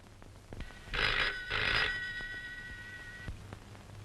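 A telephone rings indoors in two clear, loud bursts, then the ring tails off into quiet room background with no voices.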